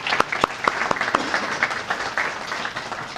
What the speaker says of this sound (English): I'm gonna clap to y'all for that.